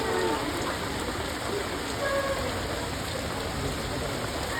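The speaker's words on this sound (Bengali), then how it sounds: "বৃষ্টির মধ্যে আমরা ফেসে আছি, পুরো বৃষ্টি পড়ছে।" Heavy rain pours near the Dakshineswar temple by the river, a dense, steady hiss of drops hitting surfaces that stays constant throughout, close and loud with no distinct voices.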